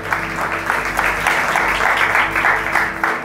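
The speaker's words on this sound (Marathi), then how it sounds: "या त्याच्यासाठी एकदा जोरदार टाळ्या वाजवतात" A church congregation applauds loudly during a sermon, a thick continuous burst of clapping with slightly pulsing rhythm, close and full, sustained for the whole stretch.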